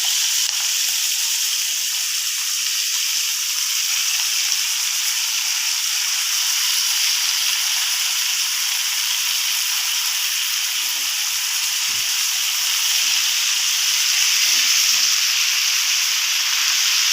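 Washed fenugreek leaves fry in a pan with ginger, garlic, cumin and curry leaves, giving a continuous, even sizzle and hiss that stays loud and close for the whole stretch.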